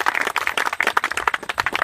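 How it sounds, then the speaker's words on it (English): Audience applause at a 2016 state representative campaign announcement, with dense, steady hand clapping from a small crowd close by. "applause for Janine"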